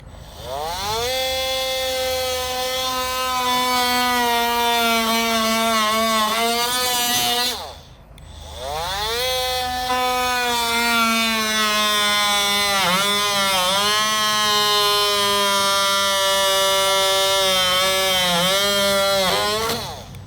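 Whining power drill with the bit boring through a pontoon boat deck, two long runs whose pitch sags under load and recovers, separated by a short pause, loud and close.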